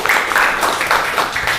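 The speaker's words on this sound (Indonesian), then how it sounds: "boleh kasih aplaus untuk Dafar" A classroom full of students claps for a classmate in a physics lesson, a short burst of dense, close, fairly loud applause with no talking over it.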